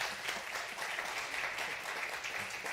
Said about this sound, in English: a round of applause for my panel